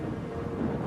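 Strong wind buffets the microphone outdoors beside a railway and crane site, a loud, low, continuous rumble with no pauses.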